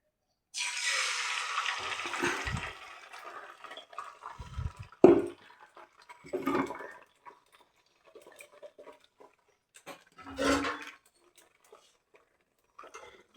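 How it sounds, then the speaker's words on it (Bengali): Beaten egg poured into hot oil in a frying pan over a low gas flame gives a short burst of sizzling, then quieter crackle with occasional clinks of a utensil against the pan. "এবার আস্তে আস্তে আমি ডিমটা তেলের মধ্যে ছেড়ে দেব।"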